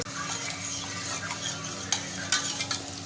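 Tempering spices for cucumber dal sizzle in hot oil in a pan and are stirred, with light scraping clinks of a utensil over a soft, continuous fry.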